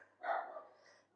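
A dog gives a single short, muffled bark somewhere off in a quiet room during a home workout.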